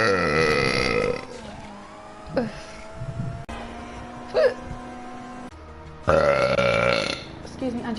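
Several long, croaky burps from a woman gaming in GTA break through the game sounds, close and rumbling, with short pauses between them.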